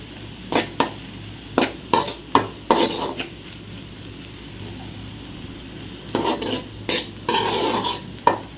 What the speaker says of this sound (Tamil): அப்பப்போ நின்று பக்கத்துலேருந்து கிளறி விடுங்க அந்த மசாலா அடி பிடிச்சிடும்